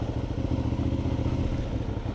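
A Suzuki V-Strom motorcycle rolls through a rocky, gravel-filled forest creek, its engine a steady low chugging rumble mixed with clattering, fairly quiet and continuous.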